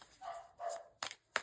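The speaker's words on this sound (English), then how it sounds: "Sorry, that is my dog." A dog barks several times in sharp bursts, with a couple of fuller barks early on and quicker yips near the end, fairly close and alone with no talk.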